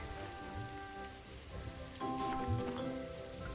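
Rain patters steadily in the Merge Dragons video game, a soft continuous spatter with light droplet ticks, while quiet tonal game music plays faintly underneath.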